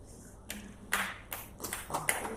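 Scattered clapping from an audience at a large church crusade meeting in Swindon, uneven and moderately loud in several quick bursts, with no speech over it.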